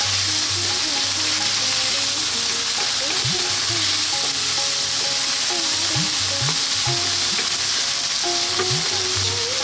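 Chopped tomato sizzles loudly and steadily in a hot oiled pan while an Indian-style salmon steak curry is cooked, with occasional scrapes of stirring and no talking.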